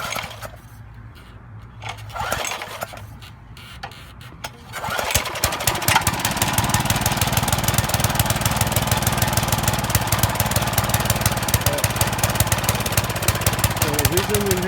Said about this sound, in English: So the reason you hear it running rough is because the choke needs to be set again.